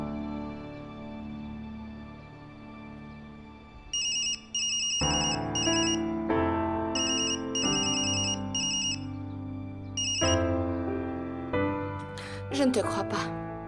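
A telephone ringtone chirps in repeated bursts over a dramatic music score in a French-dubbed television drama, ringing several times before the music swells.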